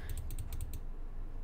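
A computer mouse clicks rapidly in an even run of about eight sharp taps, then goes quiet, while someone plays the Mega Clicker game.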